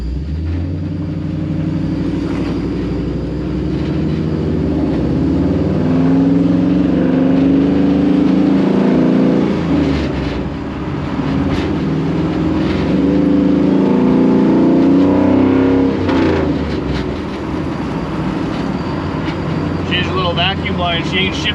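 A 1957 Chevy NASCAR Black Widow race car drives along with a constant deep engine rumble and loud tire noise that swells and eases with the throttle, while people talk over it.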